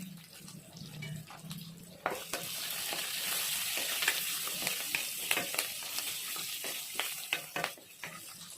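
Onions frying in a pan with curry leaves and turmeric, a hissing sizzle that grows fuller after a low hum at the start, punctuated by frequent sharp stirring clacks.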